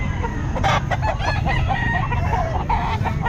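A rooster crows loudly nearby at a pet market, a single long call over steady background noise, with some clucking around it.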